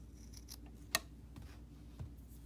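Scissors cut through face mask fabric with a single sharp snip, surrounded by quiet faint rustling, close and soft.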